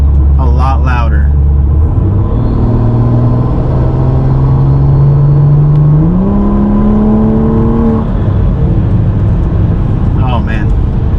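A BMW B58 engine with an aftermarket turbo intake rumbles while driving, its turbo whistle climbing steadily in pitch as it accelerates; brief voices are heard at the start and end.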